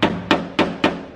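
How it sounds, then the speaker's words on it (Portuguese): Hammer taps on a dented car body panel during home car body repair, four sharp metallic knocks at an even pace, close and fairly loud, each ringing briefly before the next. "Quando eu vim aqui e bater localizado com o martelo, nessa parte aqui"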